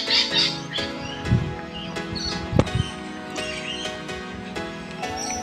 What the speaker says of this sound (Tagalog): dito maririnig mo lang ibon